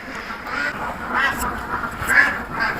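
A flock of ducks on a duck farm quacks repeatedly at moderate distance, overlapping calls rising and falling against a busy background with no one talking.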